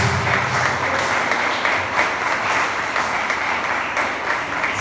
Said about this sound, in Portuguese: Aplausos a Jesus mais uma vez por essa palavra